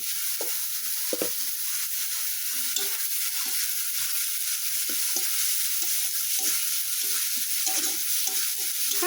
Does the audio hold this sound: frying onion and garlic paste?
yes